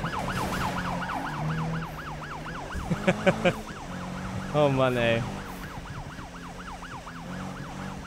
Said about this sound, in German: Was ist denn das für eine Sirene, Alter?